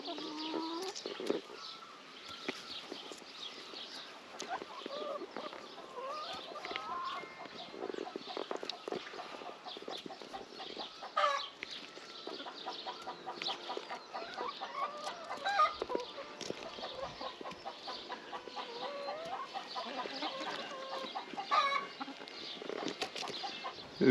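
Backyard hens on a Scottish Highland homestead cluck and murmur steadily at close range, with soft fowl chatter continuing throughout and a brief greeting voice.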